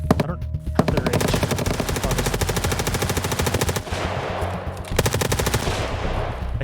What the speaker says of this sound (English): We heard a loud AKS and an M4 pop off.